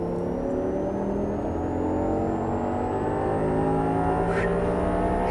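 An Audi R8 V10 accelerates under full throttle on a Las Vegas track, its engine note rising steadily in a continuous near roar with a brief whoosh near the end.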